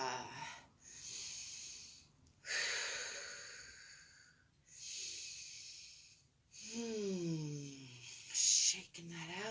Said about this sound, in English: Let's do some shoulder rolls, breathing in on the way up and exhaling on the way down.